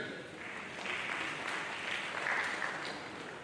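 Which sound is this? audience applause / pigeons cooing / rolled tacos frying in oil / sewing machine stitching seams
audience applause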